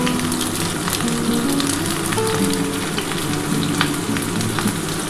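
Chicken stew ingredients with black pepper being stir-fried, a loud, dense, rain-like sizzle that holds steady throughout, with faint occasional stirring, no voices.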